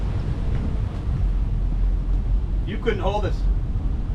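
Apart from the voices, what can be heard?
strong wind on a boat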